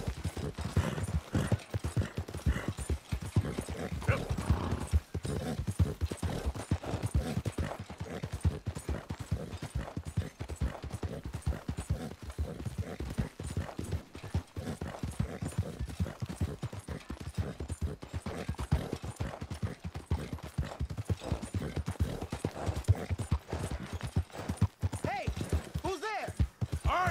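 Horse hooves clip-clop steadily through a Red Dead Redemption 2 game scene, a continuous rhythmic trot running the whole time beneath game sounds and occasional talking.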